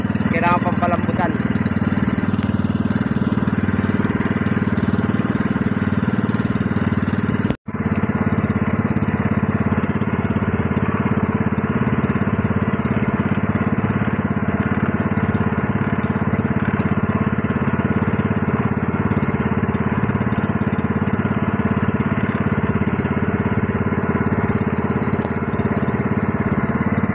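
A brand-new engine runs steadily at a gentle, unstressed pace while it is broken in, with a continuous close mid-pitched drone. A brief dropout occurs partway through, and then the same even running resumes.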